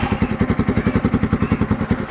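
Kawasaki Z200S motorcycle engine fitted with an Akrapovic Hexatip muffler starts and settles into a steady, rhythmic idle, a close and fairly quiet regular putter with no talk over it.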